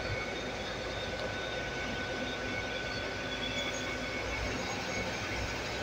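A train pulls away from Par station at rush hour, a steady low rumble of wheels and engine heard from the platform at moderate distance, with no talking.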